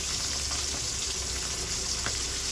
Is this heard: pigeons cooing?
no